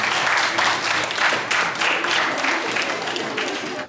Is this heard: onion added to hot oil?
no